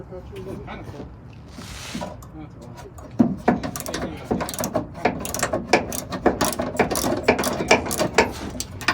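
A ratchet loosens the bolts on the side steps of a 2001-07 Chevy Silverado, its quick clicking bursts growing busy and close after a quiet start, with faint background sounds.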